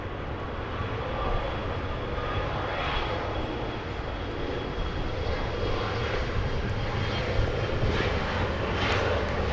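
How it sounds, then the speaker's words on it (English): United Airlines Boeing 787-10 Dreamliner departing Los Angeles International Airport: a continuous, heavy jet engine roar, steady and fairly loud throughout, with no talking. "We have a heavy departure. That is a Dreamliner. That's United Airlines, a Southside departure flying to Newark."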